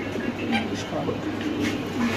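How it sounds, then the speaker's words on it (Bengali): Pigeons coo at a busy pigeon market, their low repeated calls mixed into a constant murmur of crowd noise and people talking nearby. "এখানে আছে ব্ল্যাক মুখী কবুতর একদম ফুল জ্যাট"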